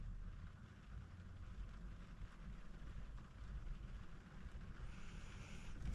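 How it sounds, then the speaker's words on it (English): Steady, dense rain hiss fills the whole stretch, constant and fairly close, with no voices. "Lovely rain."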